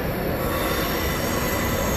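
Train wheels squeal loudly and continuously on the rails at Monza railway station, a dense steady screech with rumbling undercarriage noise filling the whole stretch, no voices heard.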